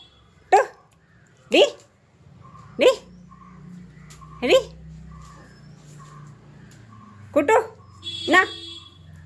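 A dog barks about six times at irregular intervals, loud and close, with two barks in quick succession near the end over a quiet background.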